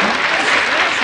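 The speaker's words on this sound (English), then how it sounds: "Listen to all the applause you got there." Studio audience applause fills the moment after a Jingle Bells performance on a 1972 Welk family music show, dense steady clapping close and loud for about a second with no talk.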